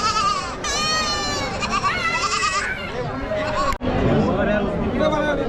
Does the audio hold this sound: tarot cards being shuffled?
no